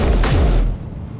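Rifle gunfire in Space Engineers: a dense, loud burst of rapid shots for about half a second, then a booming tail that decays into quiet.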